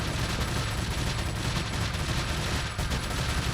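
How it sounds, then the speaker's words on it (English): Sustained machine gun fire in Resident Evil 4, a loud, dense and continuous stream of shots with no pauses. "the machine gun does not do a lot of damage"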